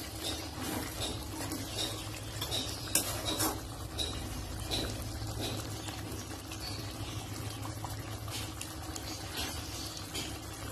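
Chicken kosha simmers in a pan with a little water as a spoon stirs and scrapes the pan, the clatter and bubbling continuing steadily at close range with no speech.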